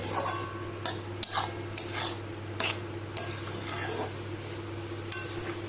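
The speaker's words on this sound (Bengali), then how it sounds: "একটু সোয়াবিন দিয়ে ভালো করে মাখিয়ে তারপরে দুধটা দিয়ে দেবো।" Soya chunks being stirred in a hot pan with a metal spoon, scraping and clinking against the pan in irregular strokes over a soft frying sizzle and a steady low hum, close and fairly loud, with no voices.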